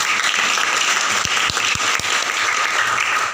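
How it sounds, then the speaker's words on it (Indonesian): Students in a classroom clap together in a loud, dense burst of applause that holds steady throughout, with a few heavier thumps standing out partway through. "tepuk tangan untuk kita semua"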